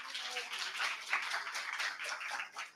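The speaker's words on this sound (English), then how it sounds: "So give her a round of applause." Audience applause for a presenter at an agricultural innovation open day in Serbia, a steady dense patter of many hands clapping that carries on for about three seconds before easing off.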